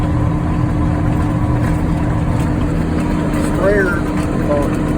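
Green Steiger tractor engine running at about 1700 RPM while spraying a field, a steady low drone close by with a faint whistle, under a voice talking throughout.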